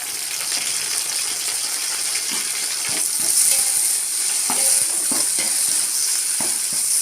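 Mint leaves sauté in hot biryani masala for a chicken biryani, giving a loud continuous sizzle with scattered clicks and scrapes of a stirring spoon, close by and without speech.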